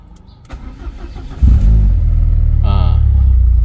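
A Peugeot 406 engine cranks briefly and then starts, settling into a loud, steady idle heard up close in a garage setting.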